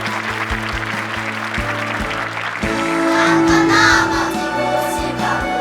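Audience applause for a visiting elementary school children's choir from Ulsan, performing at a company venue. The clapping is a broad, steady wash that swells partway through, with sustained musical tones underneath.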